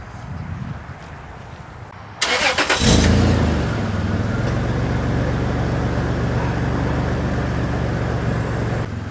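Supercharged 2001 Toyota 4Runner with a Dynomax VT muffler, a quiet idle that bursts into a loud, sharp rev, then settles into a steady rumbling engine and exhaust drone.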